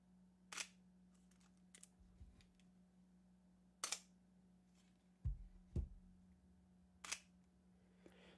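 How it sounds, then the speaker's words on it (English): A Sony A7 IV mirrorless camera fires its shutter in three or four sharp, separate clicks spaced a few seconds apart, close and quiet against a faint hum, with soft handling bumps between. "the shutter in the A7 IV is quieter, but it's nowhere near as quiet as the one in the A7S III"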